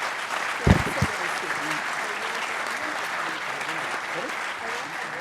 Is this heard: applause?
yes